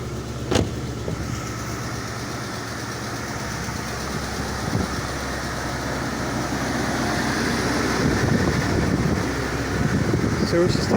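A 1978 Rolls-Royce Silver Shadow II engine idles just after starting, a steady low running hum that grows slightly louder, with a person speaking over it.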